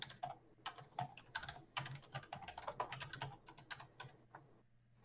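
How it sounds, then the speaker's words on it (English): Someone types rapidly on a computer keyboard before a gaming podcast begins, quiet irregular bursts of clicking keystrokes with short pauses and no talking. "when you hear Fatty typing for like 12 to 13 minutes"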